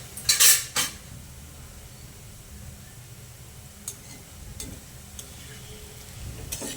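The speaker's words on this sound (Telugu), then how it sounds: "ఇలా క్రిస్పీగా వచ్చాక కలుపుకోవాలండి ఒకసారి." Crispy sweet boondi is stirred in a pan, opening with a couple of sharp metallic scrapes and clinks, then a faint sizzle with occasional soft taps and clicks.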